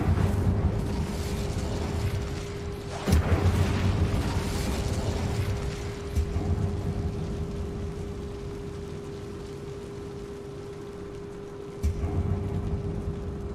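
A fire-spell blast in the video game Hogwarts Legacy, cast inside a closed mine, makes a sustained roaring, crackling rush with a few sharper bursts, loud and steady with no talk over it.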